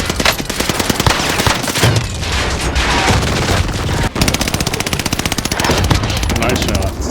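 Loud, dense automatic gunfire in a war shooter video game, with rapid continuous bursts and overlapping shots filling the whole stretch without pause.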